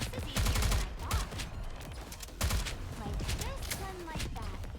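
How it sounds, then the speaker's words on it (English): Gunfire bursts and blasts from a rocket launcher unit in the game NIKKE, dense rapid crackling shots in loud waves throughout, with voices and effects layered over the top. "She has a fucking rocket launcher"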